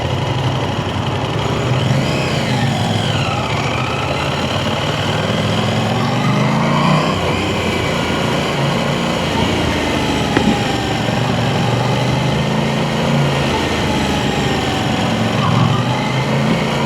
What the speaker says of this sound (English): Wow, here's some burbles.